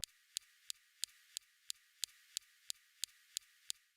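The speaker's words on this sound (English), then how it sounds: "Next, we have the SuperCam laser zapping rocks." The SuperCam laser on the Mars rover zapping rocks makes a quiet, steady series of sharp ticks, about three per second, evenly spaced and alone.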